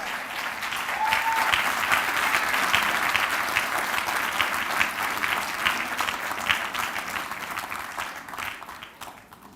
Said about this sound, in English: Can we get another round of applause for our main panel?